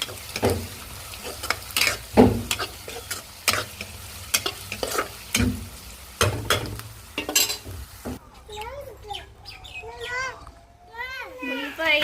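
Tomato, onion, green chilli and curry leaves fry in a pan, crackling and sizzling with repeated sharp stirring scrapes, while children's voices chatter in the background toward the end.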